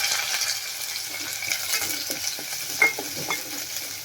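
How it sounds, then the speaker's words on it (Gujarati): Dried chilies, garlic, onion and curry leaves tempering in hot oil for spiced yogurt, a continuous close sizzle and crackle broken by a few sharper pops and stirring scrapes, with no voices. "આપણે આ સૂકા મરચાં એડ કરી દેશું અને આપણે લસણ એડ કરી દેશું, મરચું એડ કરી દેશું અને આ ડુંગળી એડ કરી દેશું"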